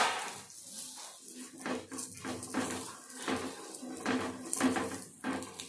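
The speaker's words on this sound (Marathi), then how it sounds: "तव्याला कांद्याने तेल लावून घ्यायचं आहे कांद्याने छान तेल सगळीकडे लावून घ्यायचं आहे तव्याला" An onion rubbed with oil across a hot griddle (tava), producing repeated scraping and light metallic clinks in an uneven rhythm, close and moderately quiet, with a faint sizzle beneath.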